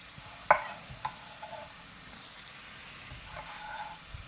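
Garlic fries in a pan on the stove while being cooked until crispy, making a soft, steady sizzle broken by a few sharp clacks of a utensil against the pan, close by with no talking.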